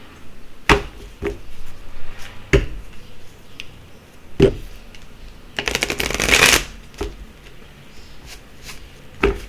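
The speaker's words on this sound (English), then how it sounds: "let me get you a Sacred Geometry's activations card here" Oracle cards from a Sacred Geometry activations deck being shuffled by hand, with several sharp taps and one longer riffling burst, close and clear with no talking.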